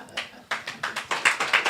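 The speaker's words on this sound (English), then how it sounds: "another round of applause" Applause at a church service: a small group claps in a quick, steady rhythm of sharp, close hand claps, roughly ten in under two seconds, with no voices over it.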